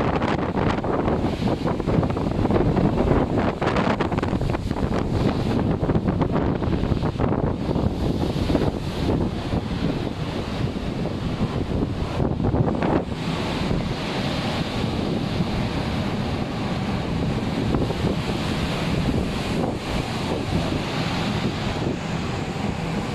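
Ocean waves surge and wind roars against the microphone aboard a cruise ship near Ketchikan in a continuous, loud rush, with an engine rumble faintly underneath.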